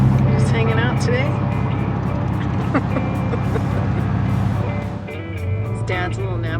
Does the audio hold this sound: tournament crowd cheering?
no